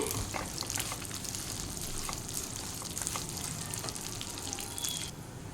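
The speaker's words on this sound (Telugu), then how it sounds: "ఒక కప్పు సేమియా వేసాను సేమియాని ఎర్రగా వేయించుకోవాలి" Vermicelli being fried until reddish-brown in a pan for sweet kesari, a steady close crackling sizzle with faint scattered pops, no voices.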